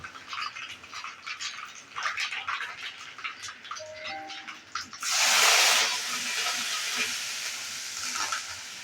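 Oil tempering for methi pithla, with crushed garlic and curry leaves tossed into hot oil: a quiet, faintly rustling start, then a sudden loud burst of sizzling hiss that settles into a steady frying crackle.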